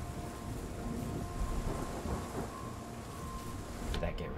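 A thunderstorm rumbles in the video game Arise: A Simple Story, with steady heavy rain, low rolling thunder and a brief sharper crack near the end.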